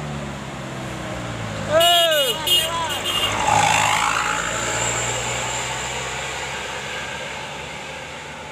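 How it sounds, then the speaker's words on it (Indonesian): A Duta Pasaman Express air-conditioned intercity coach driving past on a road, giving a broad steady rumble and a brief sweeping engine and horn swell, with someone talking throughout. "Bus DPE Duta Pasaman Express yang AC nih."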